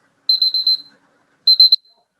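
Electronic timer alarm going off in two bursts of rapid high-pitched beeps, four pulses then three, loud and clean against silence.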